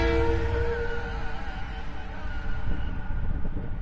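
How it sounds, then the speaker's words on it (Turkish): A TCDD DE 33074 diesel locomotive rumbles close by during switching at Niğde, with a steady low engine drone and tonal horn-like harmonics, rolling continuously with rattling undertones. "Ayın 28'inin dizeli geldi arkadaşlar"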